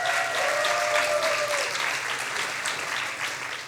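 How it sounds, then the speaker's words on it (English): Audience clapping for a volunteer at a science slam event, a lively round of applause from a hall crowd that starts strong and gradually thins out, with a faint tonal whistle early on. "Great applause,"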